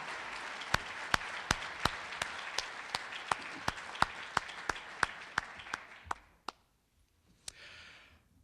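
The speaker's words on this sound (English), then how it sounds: "Can we just have another round of applause for Canton Township Supervisor Phil LaJoy?" An audience applauds a township supervisor at a public meeting: distinct, evenly spaced claps ring out close by over softer background clapping, then fade to near silence with one last clap.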